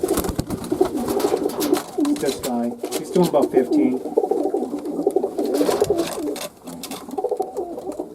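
A young chocolate-colored pigeon from a flying kit coos in repeated rolling phrases up close, while someone talks over and between the calls.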